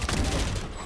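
Valorant gunfire as a short, rapid cluster of close shots, steady and loud, then tailing off slightly at the end.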